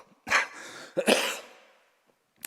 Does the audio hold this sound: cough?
yes